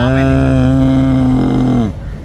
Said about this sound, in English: Bull. This is a farm